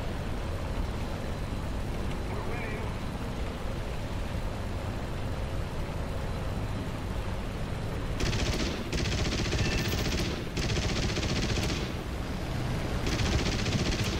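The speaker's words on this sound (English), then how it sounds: "Go ahead and reload those machine guns." Aircraft machine guns fire from a Kawasaki Ki-61 fighter in the World War II flight game War Thunder, rough rattling bursts in the second half breaking over a constant loud engine drone.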